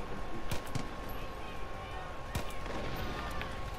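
Gunfire from shooting in a video game, with several sharp shots scattered across the stretch, including a loud crack near the middle, over a constant game background of ambient noise and a steady tone.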